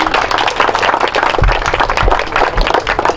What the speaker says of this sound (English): So big round of applause for her on that